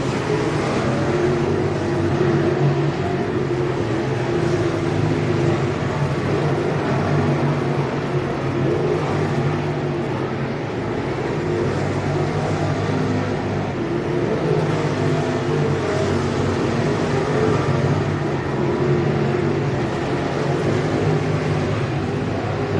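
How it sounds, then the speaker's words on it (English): Crate racing cars run a hot lap session at Needmore Speedway, Norman Park, Georgia: a continuous broadband roar of engines, steady and fairly loud throughout with no clear pauses. "This is, of course, their official hot lap session."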